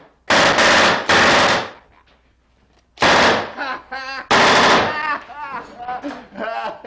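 Loud, close gunfire from a gangster movie scene shown in Home Alone comes in three sharp bursts, each followed by shouting voices.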